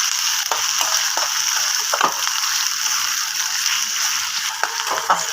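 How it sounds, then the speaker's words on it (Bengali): Chopped onions fry lightly in oil and ghee, giving a steady, even sizzle throughout with occasional soft pops and light clicks of stirring; no one speaks. "আমি পেঁয়াজটা একটু হালকা ভাজা ভাজা করে নেবো।"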